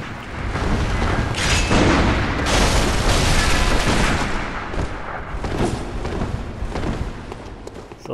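Gunfire and combat blasts in a Bloodborne PvP duel with a rifle spear, dense booming shots and impacts in a steady flurry, loud and close, with no talk.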